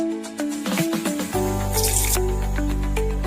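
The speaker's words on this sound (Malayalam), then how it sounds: "ആ പാനിലേക്ക് തന്നെ കുറച്ച് വെള്ളം ഒഴിച്ചു കൊടുക്കാം" Water splashes into a hot frying pan used for sole fish and breaks into a loud, steady hiss and bubbling that continues close up.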